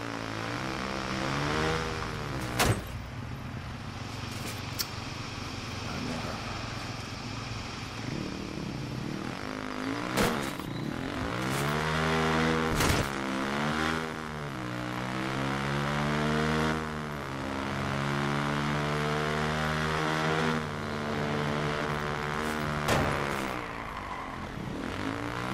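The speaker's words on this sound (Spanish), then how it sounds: "Se maneja esta moto, por favor." A motorcycle engine in Watch Dogs revs and whines steadily at high pitch, rising and falling as the bike speeds along, loud and continuous for the full length with no voices over it.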